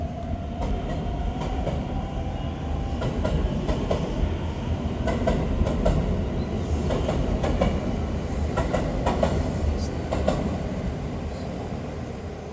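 A train rolls past near a station on the Muko River Trail in Osaka, Japan, a steady loud rumble with rhythmic clickety-clack of wheels over rail joints lasting throughout, no voices.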